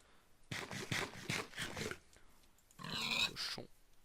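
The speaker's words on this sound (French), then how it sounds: "Cochon." A Minecraft pig gives a quick run of grunting oinks, followed after a pause by another louder snorting burst, clear and close with no talk over it.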